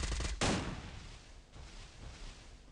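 A single loud, close burst of gunfire from the battle-royale game Free Fire, during a ranked match, cuts in sharply and then fades into a rumbling game ambience with a fainter second shot later.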